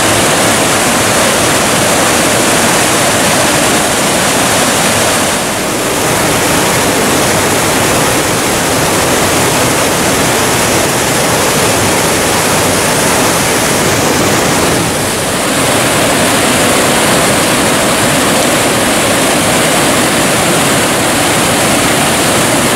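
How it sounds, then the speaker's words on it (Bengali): Atri Falls on the Rudranath trek in the Himalayas, a loud, constant roar of falling water that fills the whole stretch as dense, unbroken white noise. "অত্রি ফলস"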